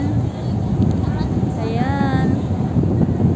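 Steady wind rumbles and buffets the microphone throughout, with a brief voice rising over it midway.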